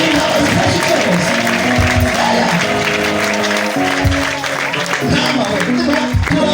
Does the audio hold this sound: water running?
no